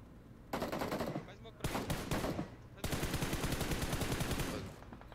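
Rapid automatic gunfire in the video game PUBG Mobile, heard as dense bursts of shots, one broken by short pauses and a longer sustained volley near the end, loud in the foreground.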